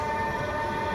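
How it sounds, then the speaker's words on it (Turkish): Train at a station platform in Istanbul, a steady loud rumble with tonal hum throughout a brief moment. "Bir sonraki tren birinci perona gelmektedir."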